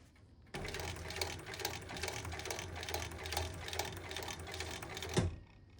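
A sewing machine runs a continuous rapid stitching rhythm across fabric at close range, then stops with a brief clunk at the end.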